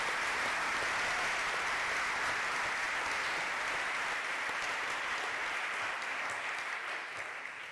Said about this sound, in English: ask you all for an absolutely massive round of applause for all 6 of the incredible women that we've listened to tonight